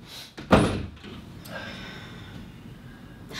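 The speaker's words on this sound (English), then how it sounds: "could you shut the door?" A door swings shut with a single dull thud, followed by a quiet room with faint movement and a soft rustle near the end.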